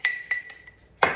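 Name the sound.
spoon scraping the sides of a jar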